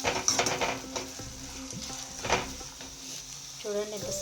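Onions for paneer biryani fry until golden brown, giving a soft, low sizzle with occasional stirring clinks and scrapes, and a faint voice in the background.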